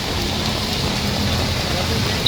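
Evening rain pours onto a city street in the Sayajiganj area of Vadodara, a constant dense hiss with no breaks, fairly loud and even throughout.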